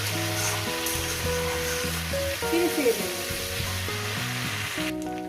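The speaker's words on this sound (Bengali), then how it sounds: "শুকনো লঙ্কা সরষে দিয়ে দিলাম এবার একটু কয়েকটি সেকেন্ড একটু ভেজে দেবো" Dried red chillies and mustard seeds frying in hot oil give a bright, continuous sizzle up close, with a short spoken phrase and some tonal background sound over it.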